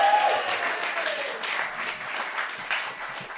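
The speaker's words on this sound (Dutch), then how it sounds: "En ze begonnen al te klappen." Live audience applauds at a podcast recording in Zottekot, Pulderbos, a steady dense wash of many hands clapping, held at a moderate level throughout.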